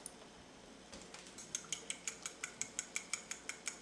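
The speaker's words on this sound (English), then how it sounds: "I'm going to whisk this up." A whisk beats eggs seasoned with cracked pepper and salt in a bowl, starting softly and settling into a steady rhythm of bright, evenly spaced metallic taps that sound close and clear.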